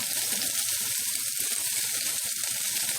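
Red peppers and onions frying in a hot pan, giving a steady, close, continuous sizzle with no talking.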